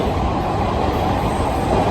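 A Chicago Red Line subway train arrives underground near Monroe, a loud continuous roar of wheels and motors filling the platform with no pause, close by.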